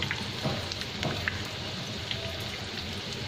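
Food fries in a pan with a steady, soft sizzle, crackling with occasional small pops and spits throughout at a moderate, close level in a home kitchen.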